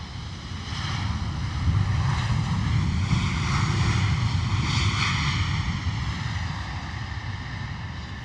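A Boeing 737 airliner arriving at London Luton Airport in wet, windy weather, its engine roar steady and loud throughout, with a broad rushing wash and no talking.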